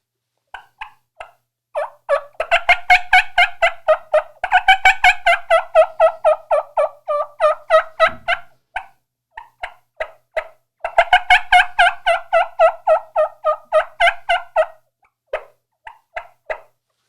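A turkey call imitates a hen's cackle: fast, sharp clucking notes that build into dense excited runs, pause, then surge again, loud and close with no talking.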